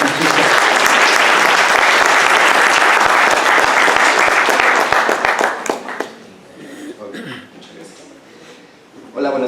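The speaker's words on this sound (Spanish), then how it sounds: "Démosle un fuerte aplauso al doctor Francesco." Audience at a medical presentation on neurological endovascular therapy gives a loud burst of applause for a doctor, dense clapping for about six seconds that thins out to scattered claps and room noise.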